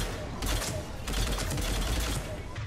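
Heavy gunfire rattles in Mass Effect 3 as dense rapid bursts of shots pile up over a loud rumbling battle bed, with a voice partly buried under the barrage.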